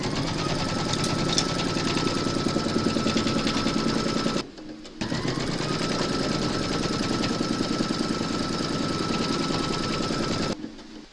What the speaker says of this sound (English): Pop your hoop into your machine and stitch round number two